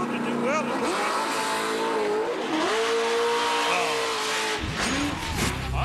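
At a wheel stand championship, a car launches hard into a wheel stand, its engine screaming loudly with rising and falling pitch over a roaring crowd and a commentator talking throughout.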